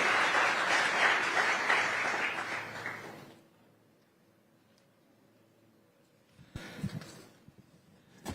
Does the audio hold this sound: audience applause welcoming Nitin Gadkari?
yes